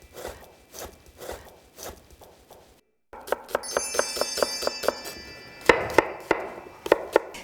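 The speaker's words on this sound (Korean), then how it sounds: "이렇게 고기는 조금 도톰하게 썰어주세요" Thick slices cut through Korean hanwoo beef on a board, a run of sharp knife chops and taps, close and fairly loud, after a few softer muffled strokes; no talking.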